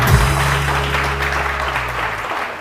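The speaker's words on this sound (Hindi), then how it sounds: "उम्मे राहिल साहिबा के लिए बहुत सारी तालियां" A television morning-show studio audience breaks into sustained applause, a thick, even wash of clapping over a low electrical hum, tapering slightly before cutting off.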